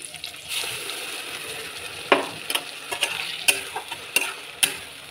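Spice paste frying with onion and potato in a pan for a chicken dish, a soft steady sizzle broken by several sharp scraping stirs and clinks of a spoon, close and without talk.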